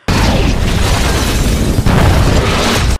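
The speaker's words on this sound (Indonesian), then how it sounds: "Bom meledak dan langsung menghancurkan rumah hacker tersebut." A massive bomb blast tearing apart a hacker's house in the film Die Hard, a loud, sustained roaring explosion with dense rumble and debris filling the whole clip before cutting off abruptly.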